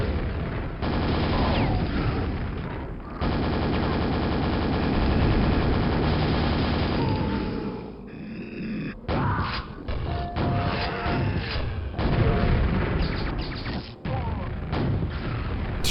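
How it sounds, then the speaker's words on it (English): An ogre's grenades exploding in Quake, running in Quakespasm: a dense stretch of loud bangs and crashing, then scattered heavy thumps and blasts amid game noise. "Sure, one of the grenades from the ogre got him."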